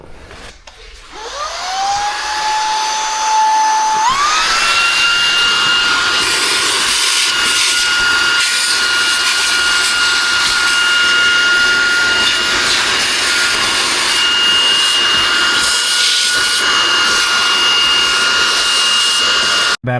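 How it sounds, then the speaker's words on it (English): A vacuum cleaner cleans up cuttings in a garage during a 2010 Subaru WRX build. Its motor spins up with a rising whine in two steps, then settles into a loud, steady high-pitched roar. "Need my vacuum and vacuum all this up."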